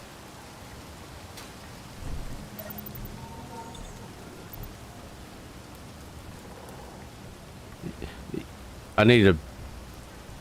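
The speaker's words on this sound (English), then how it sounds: "It's always freaking raining in this game, man." Steady soft rain hiss in the video game Space Engineers fills the background, with a voice talking briefly over it and a few louder thumps and a sharp burst near the end.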